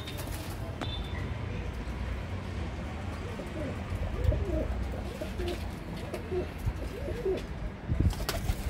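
Pigeons of a show breed offered for sale coo softly in repeated low throaty phrases through the middle of the clip, over a steady background hum with a few faint chirps.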